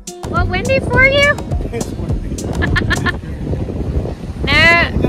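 Wind buffets the microphone on a blustery day at Rockaway Beach, Oregon, as low rumbling gusts pulse beneath people talking nearby.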